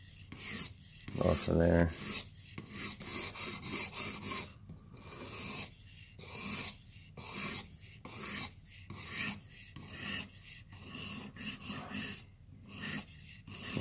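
A knife blade is drawn along a Blitz 360 sharpener in repeated rasping strokes, one more pass to clear the folded-over burr. The rhythmic filing strokes are close and crisp, and a voice speaks briefly between them.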